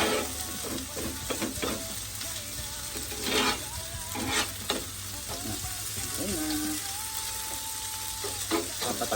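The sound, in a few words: Kapampangan sisig frying and stirred on sizzling plate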